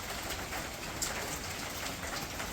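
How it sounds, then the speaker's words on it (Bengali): Light rain falls in scattered drops, a faint steady patter with soft irregular taps and no voices. "তো এই যে বলতে বলতে বৃষ্টি টিপ টিপ পড়তেছে"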